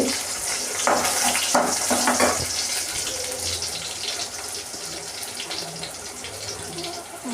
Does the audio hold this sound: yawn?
no